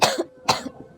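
Two sharp, close coughs a half-second apart, each a short burst followed by a faint throaty tail, from someone with a stomach ache sitting up in bed.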